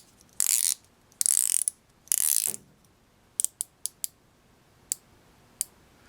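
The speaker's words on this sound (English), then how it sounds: "We do have a rotating bezel, unidirectional, 120 click." A unidirectional 120-click rotating bezel on a black-faced PVD-coated stainless steel watch is turned, giving three quick bursts of rapid fine ratcheting clicks followed by several single sharp clicks, close and crisp with no talking.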